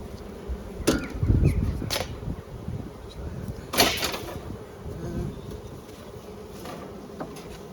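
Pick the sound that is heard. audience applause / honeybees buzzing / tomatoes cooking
honeybees buzzing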